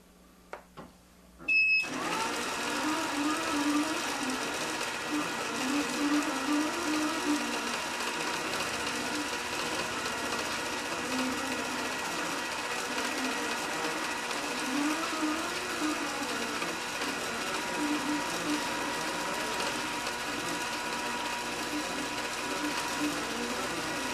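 A computerized iQ sewing machine runs steadily for about twenty seconds after a brief start-up click, its motor hum and stitching rattle close and continuous, with slight hesitations at the dwell points and no talking.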